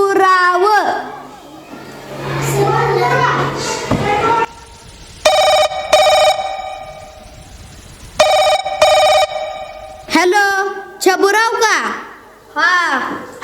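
A telephone rings in bursts of two during a Marathi school gathering comedy play, loud and clear between stretches of people talking, with crowd noise in the background.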